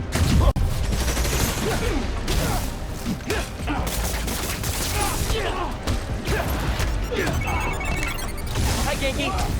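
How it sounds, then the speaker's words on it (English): Sustained gunfire and crashing action from the video game Spider-Man: Miles Morales, dense and loud throughout with repeated bursts and impacts, mixed with game voices. "Opening fire!"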